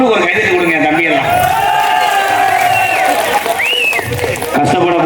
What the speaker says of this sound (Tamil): பப்ளுக்கு ஒரு கைதட்டு கொடுங்க